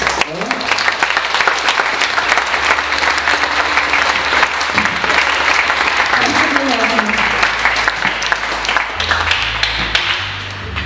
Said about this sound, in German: das verdient einen richtig fetten Applaus